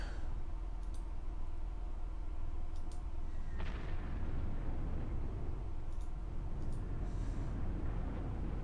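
Artillery fire in the video game Panzer Corps, during a Battle of Crete scenario: a steady rumbling barrage with one sharp, louder blast near the middle and faint scattered clicks on top, with no talking.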